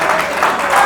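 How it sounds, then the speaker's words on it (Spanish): Applause from a church congregation, a steady broadband wash of clapping lasting under a second with no clear individual claps standing out. "denle un aplauso al Señor"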